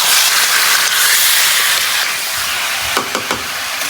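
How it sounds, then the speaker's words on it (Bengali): Meat sizzles loudly in fried spice paste on a gas stove, a dense, close, unbroken hiss with a few sharp spits and crackles near the end. "এই যে মাংসটা দিয়ে আমি ভালো করে কষাই নেবো"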